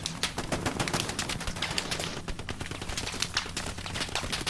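Sustained machine-gun fire rattles through a video game battle, rapid dense bursts of shots running continuously and loudly with no pause.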